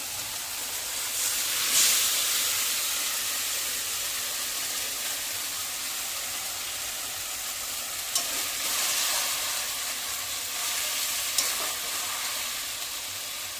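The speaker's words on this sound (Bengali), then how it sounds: "তো এবার আমি এখানে যে চিকেনটা ম্যারিনেট করে রেখেছিলাম সেটাই ঢেলে দিচ্ছি।" Marinated chicken tipped into a hot pan of browned onion, garlic and ginger for a restaurant-style chicken curry, frying with a steady close sizzle and hiss and a few brief stirring scrapes, with no talking.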